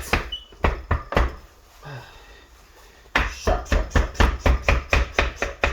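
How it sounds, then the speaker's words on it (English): A big kitchen knife chopping garlic hard on a board for crab pâté: sharp, loud, close thuds in a quick steady rhythm, a pause with faint rustling, then a faster run of even chops. "You just chop that garlic"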